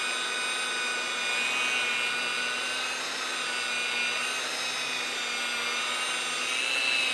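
A Barjack professional rotary polisher runs with a steady, loud whine and dense high-pitched hum that holds constant throughout, with no talking over it.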